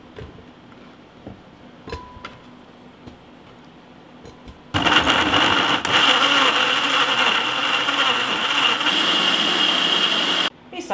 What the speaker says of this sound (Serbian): Ovako isečen paradajz samleću u blenderu.